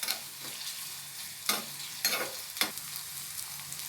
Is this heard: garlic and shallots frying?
yes